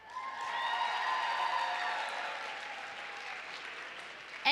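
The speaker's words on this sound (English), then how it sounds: "Let's give a big round of applause for Anna Maria Beck." A community dance marathon crowd applauds and cheers in a large space, a sustained wash of clapping with tonal cheering, gradually tapering off before a brief loud bump at the end.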